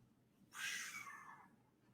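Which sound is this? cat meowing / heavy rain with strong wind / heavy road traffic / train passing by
cat meowing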